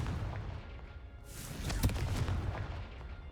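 A Confringo blasting spell explodes in the video game Hogwarts Legacy, one sharp burst with a brief whooshing flare, set against a quiet, low rumbling background.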